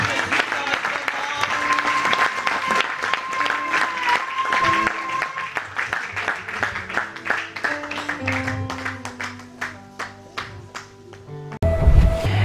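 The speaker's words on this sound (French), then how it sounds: "Acclamons Jésus." A church congregation claps in rhythm with music and voices, the beat growing sharper and more separated toward the end, followed by a brief louder thump; people are talking and singing over it.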